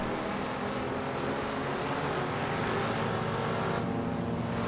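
Racing cars at Silverstone, Ford Mustangs and Ford Cortinas, give a steady, loud engine roar as they run close together, with the sound thinning slightly in the last second.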